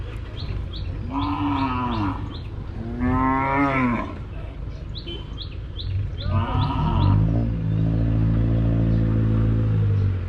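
Burmese cattle at a livestock market in Tak province give several loud, drawn-out moos one after another. The calls are close and come over a low background rumble with faint bird chirps.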